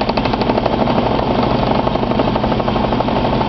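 A lathe with a custom-made turning tool scores a tobacco pipe stem, giving a loud, continuous, close grinding and rattling chatter with a steady rapid pulse and no pauses or speech.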